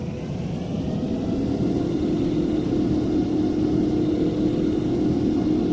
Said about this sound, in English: The engine sounds are now really good and sound like this.